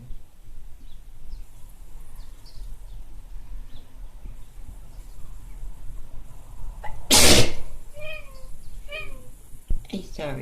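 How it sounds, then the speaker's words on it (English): One sharp, loud sneeze from a person bursts out up close after several quiet seconds, with faint chirping bird or insect calls before and after it. "I sorry for sneezing"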